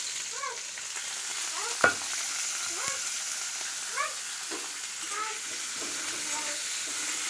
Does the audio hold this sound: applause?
no